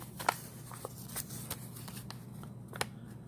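Crisp papery rustles and flicks as bills are handled, a few sharp snaps standing out over a low steady background hum.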